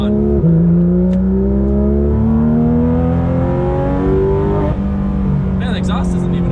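A Porsche GT3 RS engine pulls hard on an open road with the exhaust closed, loud close revs rising through gears with brief shift dips, and someone talks over it.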